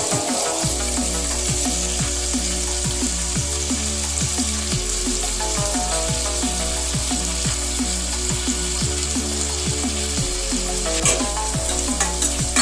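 Green beans fry in a pan for a Bombay sagu, giving a loud, unbroken sizzling hiss with occasional stirring, while rhythmic background music plays underneath throughout.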